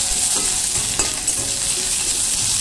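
Chopped onion, cumin and ginger paste fry in oil for a fish curry, a loud, dense, unbroken sizzle close up with brief stirring scrapes.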